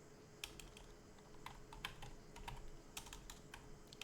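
Quiet, close typing on a computer keyboard, with irregular clusters of crisp key clicks scattered over a few seconds in a calm room.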